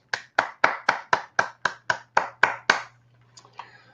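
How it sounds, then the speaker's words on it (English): About ten crisp, evenly spaced claps ring out in a steady rhythm, followed by a couple of faint taps. The clapping sounds like a single person, close to the listener. "give yourself a round of applause"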